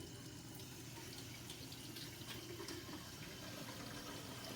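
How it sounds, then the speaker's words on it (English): A faucet runs steadily while hands are washed under it, a faint, even hiss of flowing water with no breaks across the whole stretch. "to measure how much water is being used during the time it takes for Mr. Nielsen to wash his hands"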